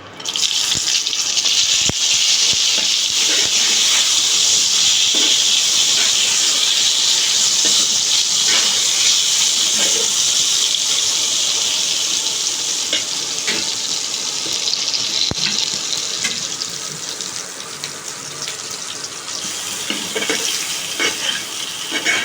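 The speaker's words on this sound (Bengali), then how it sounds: "দেখুন বেগুনগুলো ভাজছি, ভাজা হয়ে যাক।" Brinjal pieces fry in oil left over from frying fish, giving a loud, close, continuous hissing sizzle that eases slightly toward the end, with no talking.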